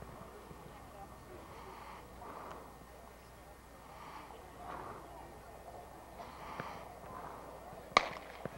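Starting pistol fired at a Minneapolis high school regional track meet: a single sharp crack near the end, heard faint and distant over an ongoing murmur of voices.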